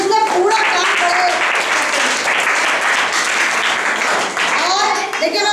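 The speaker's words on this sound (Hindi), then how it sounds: "सबसे पहले तो ग्रुप 1 के लिए हम ताली बजाएंगे" Classroom applause for a student group in a Hindi lesson, with children clapping together in a dense, steady burst lasting several seconds, mixed with faint kids' voices.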